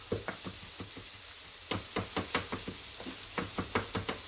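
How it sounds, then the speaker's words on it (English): A knife chops fresh ginger finely on a cutting board in a steady run of crisp knocks, with a faint cooking sizzle underneath. "So just chopping it up real fine."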